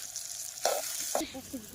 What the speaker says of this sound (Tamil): ஓகே இப்போ வதக்குங்க செஃப்